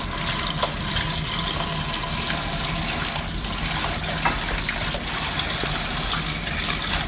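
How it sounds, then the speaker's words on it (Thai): Garden vegetables rinsed under a running tap to wash off dust, a steady broadband water rush filling the whole span at an even level, with small splashes and clinks scattered through. "แค่ล้างเอาฝุ่นออกก็พอแล้วครับ"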